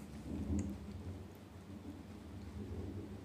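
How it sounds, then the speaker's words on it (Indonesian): Thunder rumbles low and steady from a rainstorm, a deep continuous roll with a slight swell early on, heard on its own without talk. "Waduh ada petir woi, petir ini petir ya kan."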